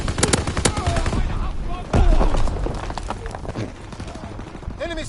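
Rapid bursts of gunfire crackle in quick volleys, loud and close, in Call of Duty WWII, mixed with game effects and someone talking over them.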